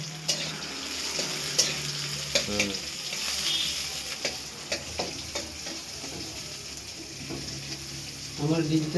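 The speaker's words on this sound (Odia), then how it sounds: "ତାପରେ ପିଆଜ ପକେଇବେ ଭାଇ। ଏବେ ପିଆଜକୁ ଖାଲି ଟିକେ ଖଡ଼ ଖଡ଼ କରିଦିଅ।" Onions fry in a pan with a low, steady sizzle, punctuated by light scraping and stirring taps, fairly faint and close throughout.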